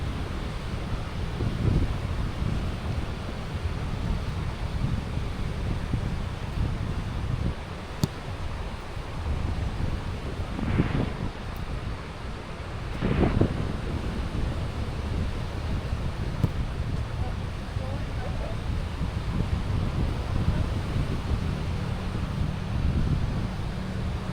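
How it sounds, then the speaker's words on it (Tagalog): Steady sea breeze blows across Tondaligan Blue Beach in Dagupan City, Pangasinan, a constant rushing roar with a few stronger gusts and faint surf underneath. "Pero yung simoy ng hangin"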